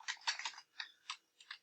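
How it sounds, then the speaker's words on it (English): Quick bursts of keystrokes on a computer keyboard sound faint and close, with a cluster of clicks followed by a few spaced single taps in a quiet room. "I'm missing on my keyboard as I try to type"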